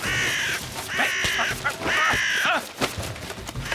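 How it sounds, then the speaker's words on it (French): Harsh, repeated caws from a crow in an animated cartoon, in a steady series, loud and close, with some chatter and noise in the background. "Corbeau!"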